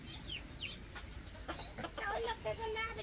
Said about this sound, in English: There's a rooster there.